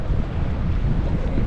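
Strong wind roars steadily across an open microphone on a boat at sea during sea bream fishing with a line held in the air, a loud continuous rushing with no pauses.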